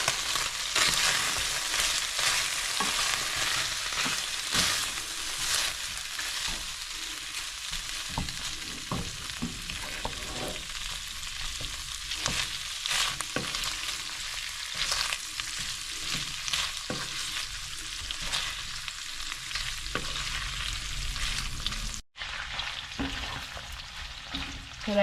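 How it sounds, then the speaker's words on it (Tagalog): Food pan-fries in plenty of butter with a steady, close sizzle and frequent stirring clatter, continuous throughout with one brief dropout near the end. "Pan-fry lang natin siya sa butter guys."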